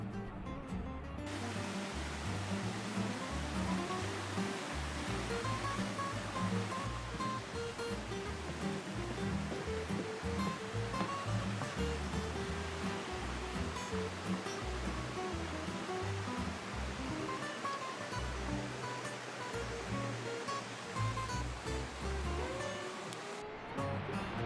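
Fall Creek Falls in Tennessee, seen from an overlook, sends up a dense, steady roar of falling water that continues without a break, loud and broad.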